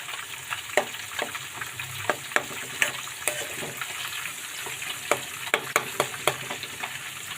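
Steady crackling sizzle of food frying in a pan, with scattered sharper pops and clinks of stirring throughout; no voices.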